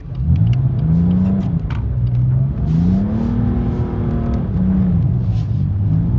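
A car driving, its mid-pitched engine rising and falling steadily as it accelerates and eases off, loud and continuous throughout with no talk.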